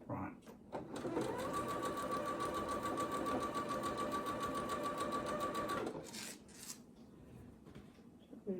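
A domestic sewing machine runs in one fast, even burst of rapid stitching for about five seconds while chain piecing small postage stamp quilt squares, with soft handling clicks and rustling of fabric before and after.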